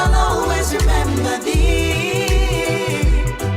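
A song plays loud and full, with a steady bass-and-drum beat and layered harmonic instruments, carrying no clear voice.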